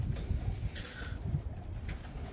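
Pigeons at a breeder's loft in Bradford, UK, cooing close by in low throaty rolls over steady background noise, with no speech.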